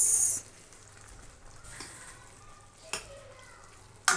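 Sausages frying with stir-fried instant noodles in a pan give off a soft, steady sizzle at close range, with a few clatters of stirring and a louder hiss at the start and end.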